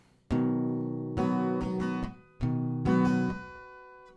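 Acoustic guitar chords for a song ring out in a steady down, down, down, up, down, down, up strumming rhythm, repeated twice, clear and close with no voices.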